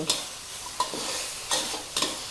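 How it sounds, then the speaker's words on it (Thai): Pork belly rendering in oil over low heat in a home kitchen, a soft steady sizzle broken by a few sharp scraping stirs of the pan at intervals, close and fairly quiet, with no voices. "เจียวไปไฟอ่อนๆเนาะสีของหมูก็เริ่มเปลี่ยนแล้วจ้า"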